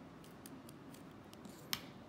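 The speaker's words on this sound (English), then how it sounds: "we're going to snip it off. Scissors will do." Scissors snip through wire while a simple electric motor coil is being built, giving a series of quiet, short clicks with one sharper, louder cut near the end against a faint background.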